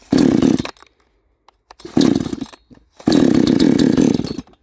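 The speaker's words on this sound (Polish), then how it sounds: "Pilarka jest rozgrzana przed, przed chwileczką i zobaczymy, jakie ona ma przez niego ustawione e, obroty." A warmed-up chainsaw is run in three loud bursts of high-revving throttle, each cut off by brief quiet, checking its idle and rev setting close up.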